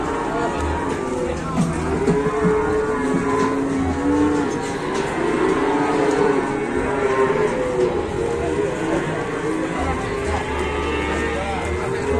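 Cattle mooing in low, drawn-out calls, several overlapping at close range over a steady, noisy outdoor background.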